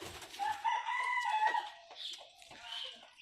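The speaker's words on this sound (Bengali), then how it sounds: "আর এখানে আছে দুটা মুরগি।" Chickens on a small poultry farm give a drawn-out crow followed by broken clucking calls, close and clear against a quiet background.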